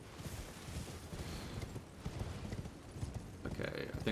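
Horse hooves in Elden Ring, ridden during combat: quiet, rapid clip-clop footfalls run continuously under game noise, with a brighter burst of effects near the end.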